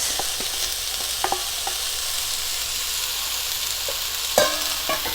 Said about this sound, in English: And then stir fry that for another minute.